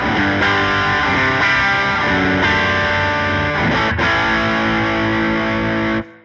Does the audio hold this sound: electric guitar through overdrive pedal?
yes